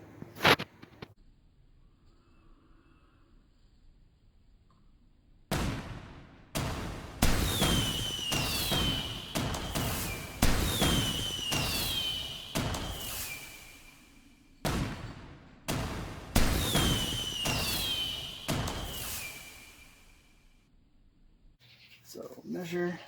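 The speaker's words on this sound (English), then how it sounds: "And scissors will straighten that right out." Scissors snip through cardboard for the wall of a homemade toy car speedway, giving rapid, loud crunching cuts in two bursts, each several seconds long, with short pauses between.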